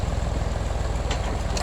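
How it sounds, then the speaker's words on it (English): A tractor engine runs steadily with a hydraulic implement attached, a continuous low rumbling drone with a faint brief hiss near the end, heard alone without talk. "You listen to the engine and you can tell whether you're too low"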